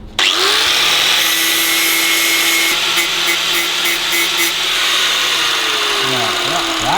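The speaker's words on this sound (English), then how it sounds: "you want to just grind the top layer off, because it welds a lot easier when it's cleaned up" An angle grinder grinds the zinc plating off galvanised steel washers for a 1934 Buick spare wheel clamp, a loud, steady high-pitched whine with rasping metal contact that runs throughout and changes pitch near the end.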